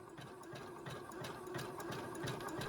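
A sewing machine stitches two layers of costume fringe together for a sequined bodysuit, running as a steady, close mechanical whir with a fast repetitive needle rhythm and no talking.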